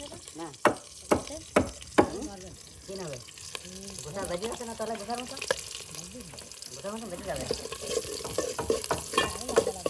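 Curry stirred and fried in oil on a fisherman's boat in the Bay of Bengal, with sharp utensil clacks at the start and then a steady sizzle and scraping. Faint voices murmur underneath.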